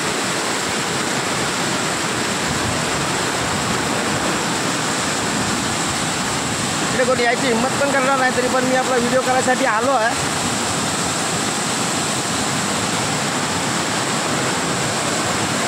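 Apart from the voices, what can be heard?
torrential floodwater rushing after heavy rain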